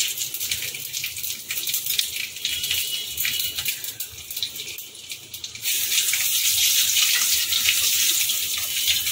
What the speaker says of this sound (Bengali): তেল গরম হতে শুরু করেছে, ফোড়নটা আমি দিয়ে দেবো।